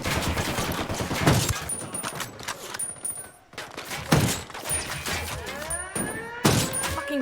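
Gunfire in Ghost Recon Wildlands, with repeated loud shots and automatic bursts, heavy thuds and a few sharp sniper cracks that ring out over a noisy, busy battle, all close and intense.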